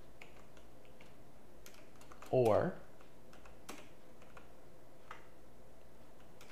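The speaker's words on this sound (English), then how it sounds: "I could go on my keyboard and put and press F4 on the F keys." Keyboard clicking from a computer, with a few sparse key taps and a short burst of louder activity around a brief spoken word, fairly close and quiet overall.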